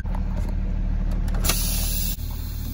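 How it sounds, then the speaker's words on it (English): A truck tractor's engine pulls forward against set trailer parking brakes, a loud steady diesel drone that strains briefly before a single dull clunk, then the idle-like hum continues. "Now I will release the trailer parking brakes and slowly try to pull forward"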